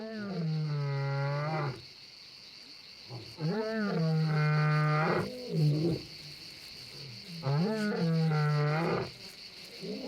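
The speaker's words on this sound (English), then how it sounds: "sounds of unfamiliar roars" Lions roar in the wild near Pride Rock, three long, deep, powerful roars with guttural grunting, loud and close, separated by short pauses over a faint steady insect hum.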